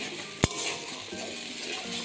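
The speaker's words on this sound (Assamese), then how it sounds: "অল্প ভাজি লম" Masala frying and being stirred in a pan for rajma paneer, giving a steady soft sizzle with one sharp utensil clack near the start.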